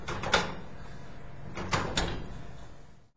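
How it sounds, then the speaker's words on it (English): Filing cabinet drawers are pulled open in a quiet room, giving three short sliding, knocking bursts: one early, then two close together near the end. "so you can open both drawers"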